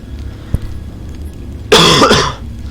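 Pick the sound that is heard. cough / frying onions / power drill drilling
cough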